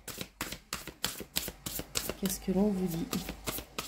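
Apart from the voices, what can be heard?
tarot cards being shuffled for a reading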